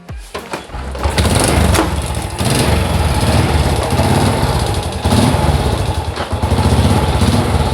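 Honda Supra motorcycle engine runs steadily after an automatic clutch adjustment, a loud close idle that revs up briefly before settling into a continuous throbbing drone.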